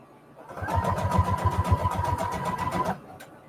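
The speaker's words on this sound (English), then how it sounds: "So I'm just sewing kind of where the laces intersect, where I changed laces." Sewing machine stitching lace onto fabric scraps, a close steady run of rapid mechanical needle clatter lasting about two and a half seconds before stopping abruptly.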